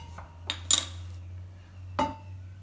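A few sharp metallic clanks of a small pot being set down and handled on a stove, brief and close, with a steady low hum underneath, while making kodhumai poli.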